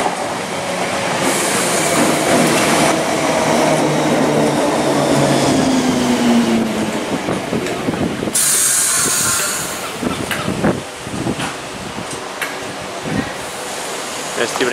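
A Class 318 electric passenger train runs through Dalmuir station, a loud steady rumble and rail hiss sustained throughout with clattering wheel clicks toward the end, heard up close on the platform.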